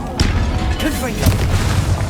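A Confringo blast spell explodes in the wizarding game Hogwarts Legacy. A loud, punchy boom lands close, with further combat thumps amid a busy fight and spoken voice.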